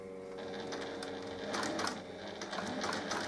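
A domestic sewing machine stitches along the edge of a fabric pouch, running steadily with a fast mechanical whirr and rhythmic needle clatter for several seconds, close and clear with no talking.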